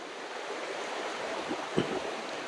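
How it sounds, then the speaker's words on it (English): Water ripples down a small waterfall on a river beside a riverside campsite, a steady close rushing and splashing wash with no pauses. "We got this little waterfall thing"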